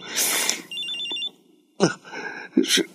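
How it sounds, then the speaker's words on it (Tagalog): A mobile phone rings with a short electronic ringtone, loud and close, in two bursts separated by a pause, while louder voices and noisy bursts sit around it. "Si Max, tumatawag sa cellphone ko."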